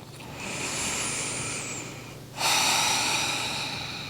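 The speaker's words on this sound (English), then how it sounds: "you could take bigger, longer breaths" Long deep breaths during a full-body joint warm-up stretch, a slow inhale giving way to a louder, airy exhale close to the mic, with a thin tonal whistle in the background.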